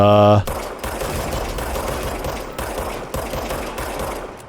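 Rapid bursts of gunfire shooting at crystal growths in the action game Control, a dense crackling barrage with repeated sharp hits under game music and effects.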